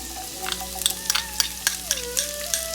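Chopped garlic and sliced onion sizzle steadily in a hot pan for a Chinese vegetable sizzler, with a constant frying hiss broken by sharp clicks and scrapes of stirring; no one speaks.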